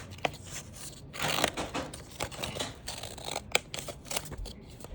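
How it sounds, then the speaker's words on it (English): Scissors snipping through paper while making a dragon puppet, a series of close, crisp cuts in an irregular rhythm, some louder than others, with no talking. "now you can cut. You can just cut"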